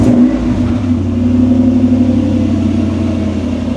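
A V8-swapped Toyota 4Runner engine runs at a steady idle, a loud, close, continuous low rumble with a faint lift in revs near the start, and no talk over it.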